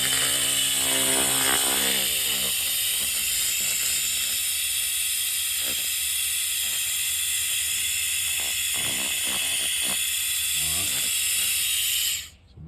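A laser rust removal tool cleaning metal welds gives a steady, loud, high hiss throughout, with faint crackling ticks beneath, cutting off abruptly at the end.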